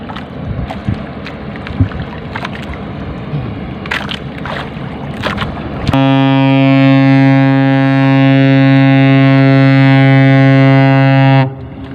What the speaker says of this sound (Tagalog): Bale yan, bumubusina dahil may mga bangka pa dun sa baba natin